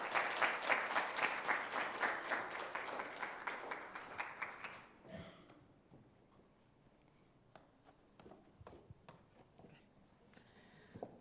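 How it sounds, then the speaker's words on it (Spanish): An audience applauds after a university lecture on Ernest Shackleton, a dense burst of clapping that cuts off abruptly and leaves scattered single claps and faint room noise. "Más fuerte ese aplauso"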